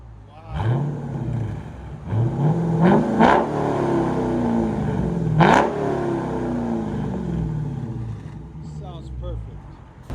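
Chrysler 300C with a 6.4L HEMI V8 and a mid muffler delete revving hard in repeated bursts, loud and close, with deep throaty exhaust roars rising and falling while people talk nearby.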